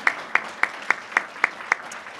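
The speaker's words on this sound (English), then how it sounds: "let's have a round of applause for our hosts" Seven crisp hand claps ring out at an even, steady pace, close and fairly loud, then stop, at a chamber of commerce small business awards event.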